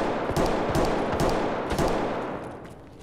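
Gunfire close by in Escape from Tarkov on the Factory map, sharp bursts of rapid automatic shots in several short volleys, loud and near, tapering off toward the end.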